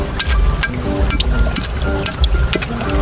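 Oysters are being washed under running tap water, which gives a steady splashing, gurgling flow close to the microphone for the whole stretch, with small spatters throughout.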